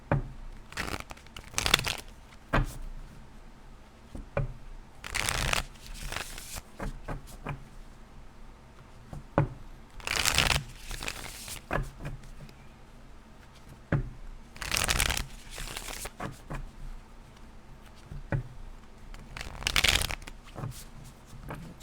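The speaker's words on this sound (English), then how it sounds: "Telling me to keep shuffling, so I'm going to keep shuffling until they tell me to pull." Cards being shuffled repeatedly: crisp riffling bursts come every few seconds with quieter handling sounds in between, close and clear.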